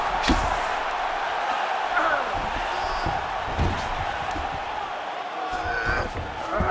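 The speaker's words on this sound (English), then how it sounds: "So the crowd absolutely loving it as these fighters work their way back to the feet." Arena crowd in the UFC 5 video game roars in a continuous, fairly loud wash during a fight, with sharp thuds of impacts scattered through it.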